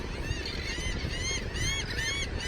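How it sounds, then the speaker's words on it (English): Seagulls at the beach give repeated harsh calls that overlap one another, steady and fairly close, against a constant bed of wind and surf noise. "Yeah, they're seagulls."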